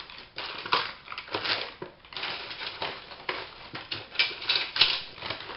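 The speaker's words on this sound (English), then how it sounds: "just tear a couple of bits of this, nice and small" Small pieces of coffee-dyed paper being torn by hand in a series of short, dry ripping crackles in irregular bursts, close and fairly quiet, with no speech over them.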